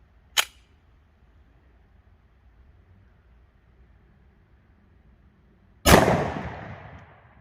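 Single sharp gunshot from a 5-inch 1911 pistol firing 10mm ammunition, a loud close crack with a ringing tail, following a brief small click several seconds earlier in near silence.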